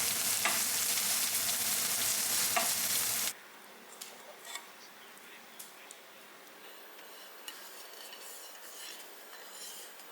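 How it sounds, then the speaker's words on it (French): The green part of a spring onion fries in oil in a pan, first as a loud, dense sizzle for about three seconds, then dropping to a quiet hiss with occasional stirring scrapes. "dans une poêle, mettez un peu d'huile et faites frire la partie verte de l'oignon cébette"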